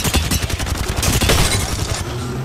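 Rapid gunfire in a video game rattles in a dense, continuous burst of shots, loud and close, with no talking.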